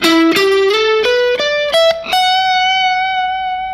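An electric guitar plays a quick ascending run of about six picked notes, ending on a sustained, slightly distorted note.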